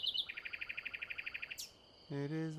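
A nightingale sings in a quiet grove by a valley, a fast series of about fifteen even, rapid chirps followed by a rising whistle and a lower sustained whistled phrase, clear and fairly close against a still background.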